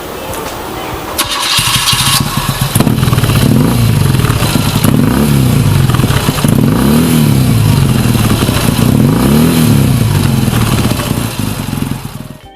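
An air-cooled 980 cc two-cylinder boxer engine with two valves per cylinder, on a BMW GS motorcycle, starts up and then runs loud and close with a steady throb and repeated rising and falling revs.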